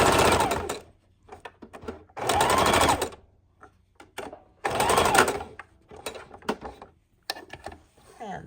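A sewing machine stitches a quilted book bag in short bursts of fast, rattling needle action, pausing between runs as the fabric is pivoted, close and clear.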